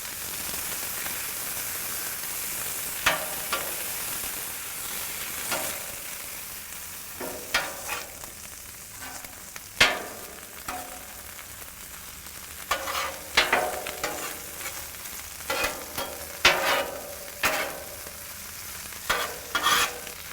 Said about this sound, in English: This is ham, chopped ham, diced ham. Get it a little toasty first on the flat top